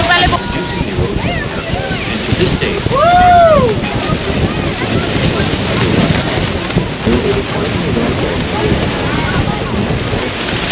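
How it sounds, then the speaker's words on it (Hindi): Strong wind and heavy water spray batter a tour boat near Niagara Falls. A dense, roaring rush of wind buffeting the microphone and pouring water goes on throughout, with someone talking over it and a brief cry partway through. "इतनी तेज़ हवा चल रही है और पानी बहुत ज़्यादा पड़ रहा है।"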